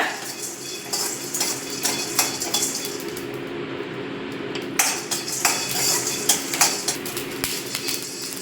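Fennel seeds dry roasting in a pan over a low flame for crab masala, with a spoon scraping and clinking against the metal in irregular strokes, a brief lull partway, then renewed stirring.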